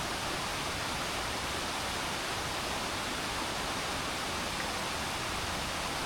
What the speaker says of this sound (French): Et là, tu t'arrêtes pour voir une cascade.